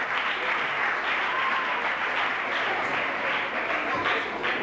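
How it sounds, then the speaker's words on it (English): A crowd at a 1987 fantasy princess event applauds after a raffle, giving steady, dense clapping that continues evenly throughout. "a round of applause for this young friend who's just helped us with the raffle"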